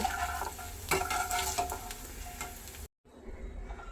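Edible gum puffing and frying in ghee and a little oil in a pan, being stirred: a steady close sizzle with stirring scrapes, broken by a brief moment of silence near the end.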